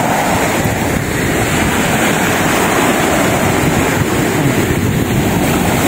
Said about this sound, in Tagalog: Ito po, yan po yung dagat.